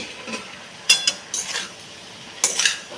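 Stirring boiled, drained taro stolons into a vegetable curry in a pan, with a few scattered scraping and clinking utensil strokes against the pan, moderately close and without talk.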